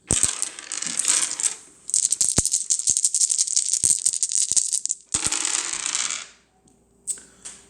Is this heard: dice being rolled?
yes